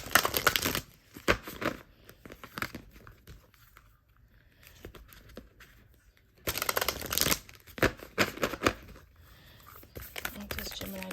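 Oracle cards shuffle in soft, papery riffling bursts near the start and again later, with a quiet stretch between and a voice speaking over parts of it.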